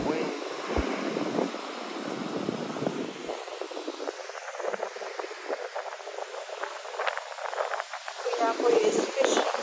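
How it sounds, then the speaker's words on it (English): Cold wind blows across a beach at Titusville, Florida, as a steady, loud broadband rush with gusty swells and buffeting on the microphone, and faint voices mixed in. "Keep your shirt on. It's cold wind."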